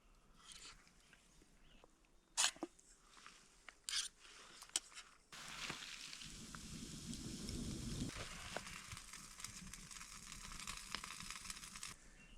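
A campfire burns in the woods at night on a solo camping trip, with sharp scattered pops and crackles early on, then a steady louder hiss and rustle of flames close by, no talk.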